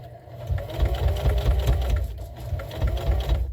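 A sewing machine runs a few stitches forward and then back while making a reusable scrubbing sponge, giving a close, loud, steady mechanical whir with a quick rhythmic chatter.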